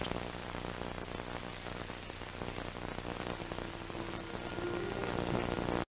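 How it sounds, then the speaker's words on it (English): Steady heavy rain during severe flooding, a dense constant hiss of drops striking surfaces that keeps going evenly, then cuts off abruptly at the end. "more rain continues to fall today"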